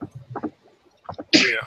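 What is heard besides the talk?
sneeze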